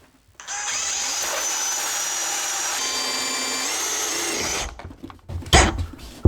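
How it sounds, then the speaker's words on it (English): Power drill boring a hole in a cabinet during a salvage mobile home kitchen rebuild, a loud steady whine running about four seconds that rises slightly in pitch before cutting off, followed by brief clatter. "We'll drill the hole."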